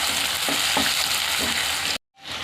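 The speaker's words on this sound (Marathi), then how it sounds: "आता याला छान नरम होईपर्यंत परतायचं" Tomatoes and chopped green chillies sautéing in a hot pan for an egg and fenugreek bhurji, a steady close sizzle with faint stirring scrapes that cuts off abruptly near the end.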